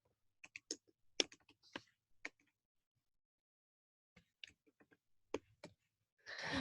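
Quick bursts of keystrokes on a computer keyboard, typing a short print command, come in two clusters of light, close clicks separated by a pause, in a quiet room with no talking.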